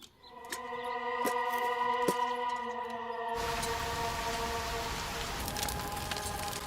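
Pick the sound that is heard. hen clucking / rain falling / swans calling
rain falling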